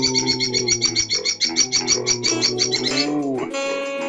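A bird in the Katawa Shoujo video game coos and chirps in rapid repeated calls, loud and close, blended with tonal game music that cuts off near the end.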